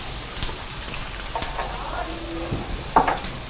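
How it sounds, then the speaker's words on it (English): Steady soft sizzling of mushrooms sautéing in coconut oil in a pan, with occasional stirring scrapes and light clinks. "So we're gonna let that saute a little bit. Get that sizzling."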